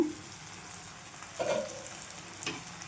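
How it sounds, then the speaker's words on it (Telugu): Onions fry gently in a pan with a soft, steady sizzle. A couple of brief stirring scrapes break through, and the sound stays quiet and close with no voices. "చూడండి మనకైతే మంచిగా ఆనియన్స్ వేగాయండి."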